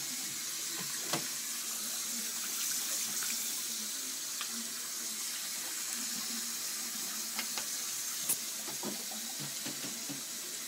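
Water runs from a tap into a sink while a toothbrush is rinsed, a soft continuous splashing stream with small knocks and clicks scattered through it.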